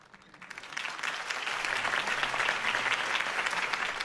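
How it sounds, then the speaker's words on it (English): Crowd applause in the video game Batman: The Telltale Series swells up from near silence and holds steady, a dense wash of many hands clapping at once, with no voices over it. "could have heard that applause"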